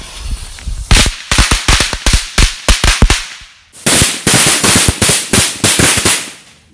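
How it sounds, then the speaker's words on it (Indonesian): Loud mini woodpecker firecrackers crackle in two rapid bursts, a string of sharp bangs popping one after another with a brief pause between them. "Mercon mini woodpecker diubah menjadi mercon kertas."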